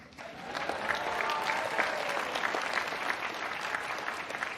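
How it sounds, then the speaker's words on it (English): A large commencement audience at Caltech applauds, steady clapping building quickly and holding at a moderate distance throughout, without any speech over it. "maybe if you could just applaud"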